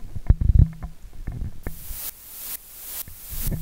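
Sidechain-style ducking made with an LFO in FL Studio: a noisy wash that repeatedly drops out and swells back in a regular pumping rhythm, following a few soft thumps and clicks.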